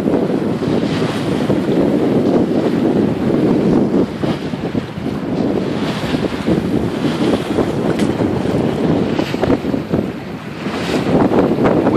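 A 2009 Schock Harbor 25 sailboat under sail off Wilmington, NC, with steady loud wind rushing across the microphone and water washing along the hull throughout, no talking.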